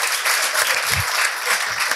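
Audience applause from a comedy show crowd, steady clapping filling the whole short stretch at moderate loudness with no talk over it.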